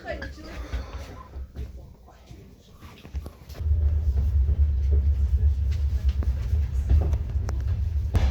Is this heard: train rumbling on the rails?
yes